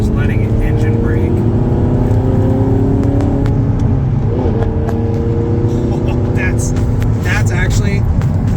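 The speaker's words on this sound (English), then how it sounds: "Kind of just letting it engine brake." An Audi R8 engine-brakes along a winding Ozark mountain road. Its engine note drops smoothly in pitch under a steady road hum while people talk inside the car.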